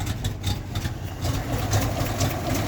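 A GAZ-53 truck engine fitted with a new carburetor runs on choke with a steady, low, throbbing idle. The rumble stays even and moderately loud throughout.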